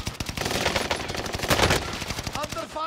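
Gunfire in a battle-royale shooter video game crackles in rapid automatic bursts, loud and close, firing almost continuously with dense overlapping shots.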